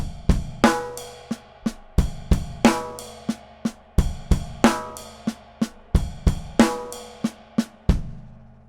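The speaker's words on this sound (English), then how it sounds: "add the bass drum to the right hand doubles" Drums play an inverted six-stroke pattern with the bass drum doubling the right hand, thumping kicks under crisp snare and cymbal accents in a brisk repeating groove, close and loud, no talking.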